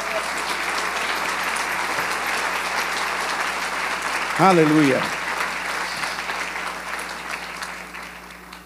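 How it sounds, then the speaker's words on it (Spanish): A church congregation breaks into a burst of applause for the Lord during a Spanish-language sermon, a dense clapping wash under the preacher's voice, with a sung exclamation rising briefly in the middle before the clapping fades. "Denle un aplauso al Señor por eso."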